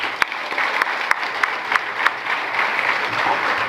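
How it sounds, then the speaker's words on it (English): An audience at a youth symposium applauds, a steady wash of clapping with several sharp, distinct claps standing out near the front over the first two seconds. "So we thank Prabhuji by a big round of applause."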